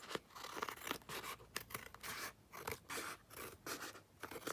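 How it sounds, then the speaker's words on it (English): Scissors snip along the tatty edges of collage book pages, producing a steady run of soft, close cutting and paper-rasping sounds at low volume with no talking. "cut those edges off"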